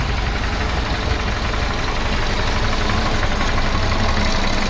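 A 1976 BMW 2002 engine idling steadily and loudly up close, its low rumble joined by a constant whine and rattle from a noisy air pump, with no talk.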